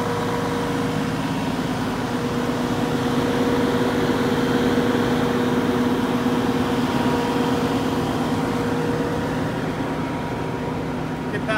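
A Cummins ISL 450 diesel engine runs in a 2019 Winnebago Horizon motorhome, giving a loud, steady, droning hum with constant low tones and a whine above. It holds level throughout with no speech.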